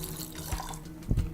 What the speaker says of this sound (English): I'm just going to pour a little water